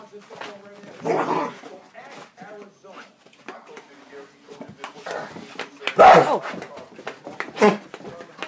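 A dog barks in sharp bursts and whimpers between them indoors, loud and near, while people talk around it.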